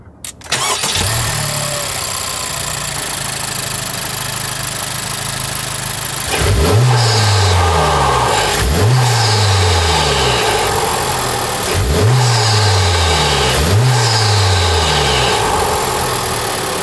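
A 2023 Honda Civic Type R FL5 turbo engine fitted with a K&N intake starts, idles, then gives four sharp revs in quick succession, each rising and falling back to idle, loud and close with no talk.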